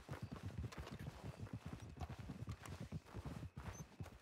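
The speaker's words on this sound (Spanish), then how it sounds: "voy a seguir entrenando al caballo" Rhythmic horse hoof clip-clop from a horse being trained in Red Dead (RedM) roleplay, steady trotting beats close by with no talk over them.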